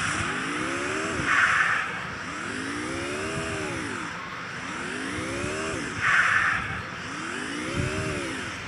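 A car engine in a video game revs and hums steadily, rising and falling in pitch in repeated sweeps while being maneuvered into a parking spot, with a few brighter bursts along the way and no talking.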